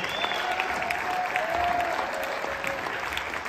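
Audience at a Blue Ridge Rifles Nighthawks of Honor event applauding an honoree, a retired colonel, with a dense, steady round of clapping that fills the space, loud and continuous without a break.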